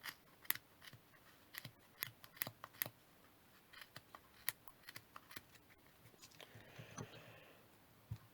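Scissors snip out cardboard discs for a pom-pom bauble, giving a quiet, close series of sharp crisp cuts at an irregular pace, with a soft rustle of card near the end.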